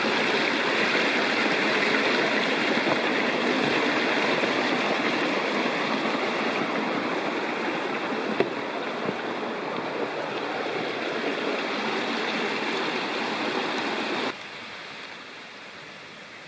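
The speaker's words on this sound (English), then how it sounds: "There's a beautiful little side stream to Flint Creek and a waterfall coming down, small waterfall." A small waterfall spills into a side stream of Flint Creek in the Rocky Fork valley, a steady broadband rush of falling and flowing water close by that stays constant throughout, dropping slightly in level near the end.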